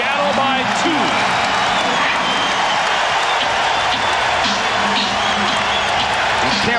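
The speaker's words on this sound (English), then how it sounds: "And the Sonics have the crowd into the game." Loud, continuous roar of a Seattle SuperSonics home crowd cheering at a 1995 NBA playoff game against the Lakers, with scattered shouts and applause throughout and a commentator talking over it.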